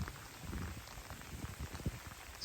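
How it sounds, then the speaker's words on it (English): Rain falling over an open farm field, a steady soft patter of drops spread evenly throughout, fairly faint with a few slightly louder taps and no voices. "it's now started to rain."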